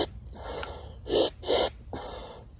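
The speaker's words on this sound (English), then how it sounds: "a single breath would be like in the belly, like this, or a double breath would be" Breathing technique demonstration with double breaths: a few soft breaths, then two sharp, loud, quick inhales in a row near the microphone, followed by a softer exhale, no speech.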